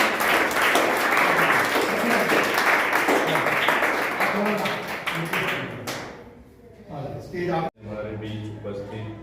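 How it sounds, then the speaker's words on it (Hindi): Audience applause welcomes guests at an event in a hall, loud and sustained for about six seconds before fading out and giving way to speech. "तो इनके लिए भी तालियां"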